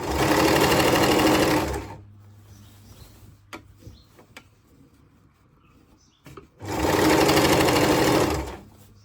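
A sewing machine stitches round the pieces of a churidar pant in two loud, steady bursts, one at the start and one at the end, with a quiet pause of fabric handling and small clicks in between.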